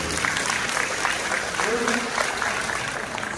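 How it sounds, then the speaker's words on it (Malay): An indoor audience applauds steadily for a few seconds at a talk or seminar, a dense continuous clapping that fills the room while a voice speaks faintly over it. "So beri satu tepukan kepada isteri."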